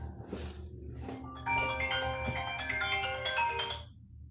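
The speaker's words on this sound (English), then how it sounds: "Getting a phone call." A phone ringtone for an incoming call plays a bright, tinkling electronic melody, loud and close, rising after a short lead-in and cutting off near the end, with low background hum underneath.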